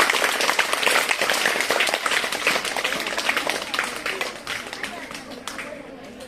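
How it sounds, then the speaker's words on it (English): Steady applause from a crowd of students clapping at a school English language club event, dense and continuous, slowly thinning toward the end. "Give a big clap for Rakshana."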